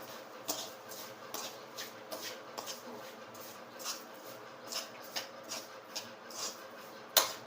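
A spoon clinks and scrapes rhythmically against a pan while a jaggery and sugar mixture is stirred, a steady run of light metallic taps close by, with faint talk in the background.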